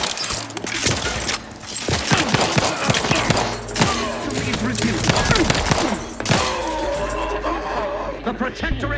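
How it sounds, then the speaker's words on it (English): Grenade blasts and gunfire from The Outer Worlds 2 pop and crash in rapid bursts amid game music and voices, with loud shattering impacts scattered through the stretch. "Grenade! Away!"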